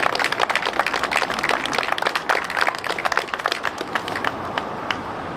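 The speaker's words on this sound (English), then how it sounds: "please give them all a round of applause" Audience at a local election debate in Fermoy applauding the candidates, a dense, steady round of clapping from a modest crowd that continues throughout without talk.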